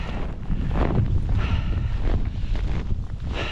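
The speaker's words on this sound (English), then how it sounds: "It's been some serious wind" Strong blizzard wind buffets close and rough in uneven gusts, with no talking.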